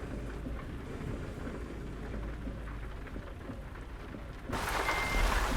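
Steady rain hissing in the truck-driving game American Truck Simulator, a dense continuous wash of falling drops that grows louder and brighter near the end, with no talking.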